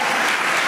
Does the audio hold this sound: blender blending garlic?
no